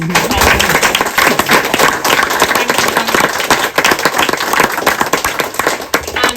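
Loud, sustained audience applause at a book tour event, many hands clapping in a dense crackle with sharper individual claps standing out, continuing throughout.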